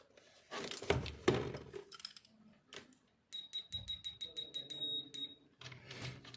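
A multimeter set to buzzer (continuity) mode gives a sustained high electronic beep while probes are tapped and handled on a G31 motherboard under repair, with clicks and rattles around it.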